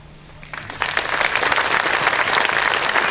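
A crowd at a lakeside summit event breaks into applause, rising quickly from quiet into a loud, dense burst of clapping that holds steady to the end.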